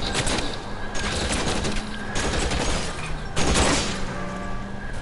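Rapid bursts of gunfire crackle during a car chase shootout, several volleys close and loud over rumbling vehicle noise, with no talking.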